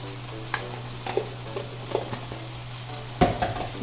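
Crab roast curry masala with coriander powder and black pepper powder being sautéed in a pan, a steady sizzle beneath scattered scraping stir strokes, with a louder scrape near the end.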